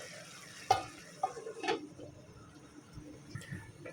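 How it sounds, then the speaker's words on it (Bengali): Hilsa fish curry with plenty of arum cooking in a pot on a wood-fired stove, a faint low bubbling under a few sharp clinks and taps of utensils. "এই তরকারিটা কিন্তু বলক চলে আসছে"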